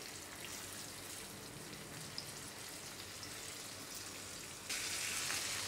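Pieces of rohu fish fry in oil in a pan, street-style, with a soft, continuous crackling sizzle heard close up, growing a little louder and brighter near the end.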